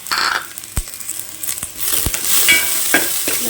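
Chopped onion and ginger fry in a pan with a steady, close sizzle, broken by a few sharp scrapes and knocks of a utensil against the pan.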